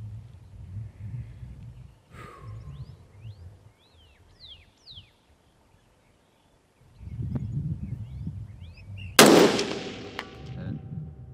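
A combat rifle fires during a zeroing session at a range, one sharp, loud shot near the nine-second mark after a quiet stretch of wind and birdsong.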